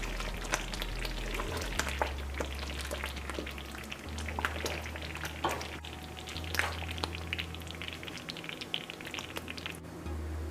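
Karhee simmers and bubbles in a covered pot, giving off a steady soft crackle and sizzle under a low continuous hum, with scattered light pops throughout.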